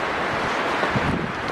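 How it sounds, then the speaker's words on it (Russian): Steady wind blowing outdoors in a forest in March, a continuous broadband rush with slight gusty swells and no voices. "Ветер на улице, погода"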